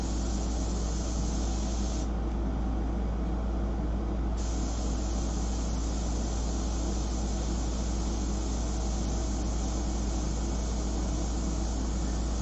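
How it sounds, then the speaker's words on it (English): An airbrush sprays ink onto a fashion portrait in a steady, continuous hiss that runs the whole time, with a brief change in tone partway through and no talking. "So let's see if I can just come in with the airbrush and kind of fill this in."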